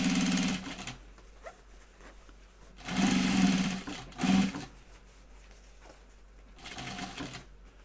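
A sewing machine stitches a bag prototype in three loud, buzzing runs separated by quiet pauses. A short middle burst and a softer final run follow the first long stretch.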